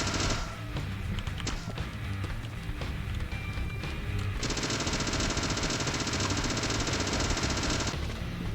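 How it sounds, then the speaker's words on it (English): Rapid gunfire in the video game Deadly Premonition, a dense rattling burst of shots with a long sustained automatic stretch in the second half, loud and close. "I am shooting it."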